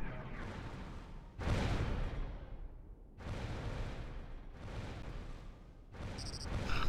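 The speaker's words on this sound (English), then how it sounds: "What are they shooting at with the missiles?" Missiles firing in the space combat game Battlestar Galactica Online, several deep booming launches and blasts a second or two apart, each with a rumbling decay, moderately loud.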